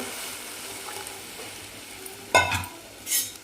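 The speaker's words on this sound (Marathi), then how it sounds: "छान एकदम ढवळून घ्यायची आणि उकळी काढून घ्यायची आपल्याला" A spoon stirs a curd and gram flour kadhi mixture in a pot, giving soft scraping under a gentle sizzle, with two sharper clinks of metal against the pot near the end.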